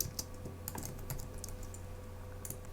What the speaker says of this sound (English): To get to the next box, all you have to do is click tab on your keyboard